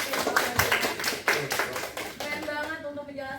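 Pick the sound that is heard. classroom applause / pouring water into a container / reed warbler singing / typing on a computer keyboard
classroom applause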